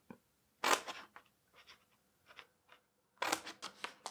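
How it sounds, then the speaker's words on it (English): Scissors snipping notches into weaving material in a few short bursts of crisp cutting, close and quiet, with pauses between the cuts. "I'm just gonna start cutting a little notch"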